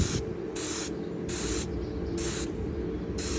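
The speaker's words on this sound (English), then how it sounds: "I'll figure out some way to cover this side without tape while I'm spraying the Loctite on." Loctite rust converter sprayed from an aerosol can in a third and final coat, a near hiss pulsing in short bursts about every half second over steady background noise.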